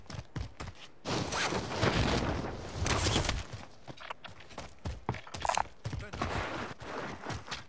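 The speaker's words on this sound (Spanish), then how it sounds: "Se oyen disparos por allá arriba." Gunfire in a video game, with several sharp bursts and a sustained volley of shots, some sounding distant, interspersed with softer thuds and movement.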